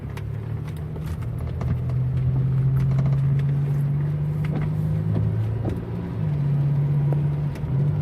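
A 2000 Pontiac Bonneville engine hesitating while cruising, heard as a steady low drone from inside the car, with brief dips and surges in the engine tone and no talking.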